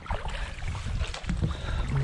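Paddles dip and pull through calm water beside a canoe or kayak on a springtime outing, close-up sloshes and splashes over light wind buffeting the microphone.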